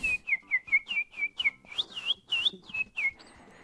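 A person whistles a series of short, chirpy bird-like notes in a quick irregular rhythm, shaping the sound by opening the jaw more or less, imitating a bird call.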